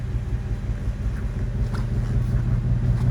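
The V8 exhaust of a 2019 Ford Mustang GT with active exhaust rumbles low and steady at idle close by, deep and throaty, with some wind noise and no talking.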